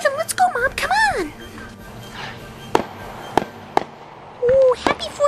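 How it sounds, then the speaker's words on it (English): Fireworks set off by neighbours across the street on the 4th of July, several sharp nearby bangs and crackles spaced through the scene, with excited voices, including a child's, talking and squealing between the blasts. "the people that live across the street are having fireworks"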